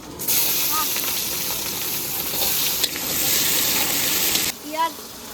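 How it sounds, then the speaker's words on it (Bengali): Chopped onion fries in hot oil in a pan, a loud continuous sizzling hiss with steam and occasional stirring clinks, close up, briefly dipping near the end. "পেঁয়াজ ভাজা হয়ে গেছে,"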